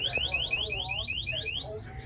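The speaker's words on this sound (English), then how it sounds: "And the alarm on the door is going off." Door alarm triggered after an access-control release on a fire alarm, sounding a loud, repeating electronic warble of rising sweeps that runs steadily before cutting off near the end.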